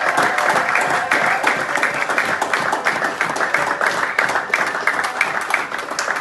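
A church congregation applauds and cheers loudly in praise of the word of God, a dense, steady wash of clapping and voices that holds for the whole stretch without a break.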